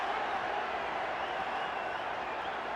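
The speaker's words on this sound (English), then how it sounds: "listen to the response of the crowd" A big boxing crowd at Cowboys Stadium roars steadily during a top-level fight, a dense, continuous wall of cheering and applause with no breaks.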